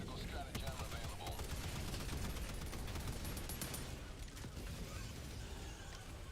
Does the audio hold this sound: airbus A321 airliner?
no